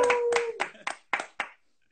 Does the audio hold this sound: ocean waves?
no